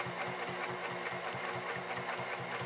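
A sewing machine runs steadily during free-motion quilting with a ruler foot, its needle mechanism producing a fast, even rhythmic whirring and clatter, close and alone.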